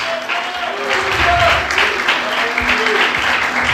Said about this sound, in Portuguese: Quantos podem aplaudir o Senhor por isso?